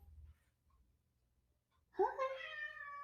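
A pet cat lets out one loud, drawn-out meow close by after a quiet stretch, with a brief soft sound of movement before it.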